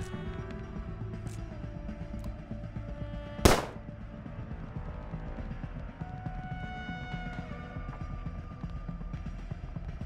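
A single sharp gunshot cracks out midway through a quiet, steady music bed as a cop is shot in the video game Rebel Cops; no one speaks.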